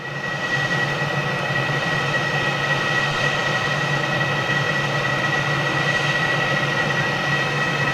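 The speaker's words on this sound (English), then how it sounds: "Here comes Richo's 330." An Airbus A330 passes with a steady, dense engine roar and a high whine held throughout, loud and continuous, with no talk.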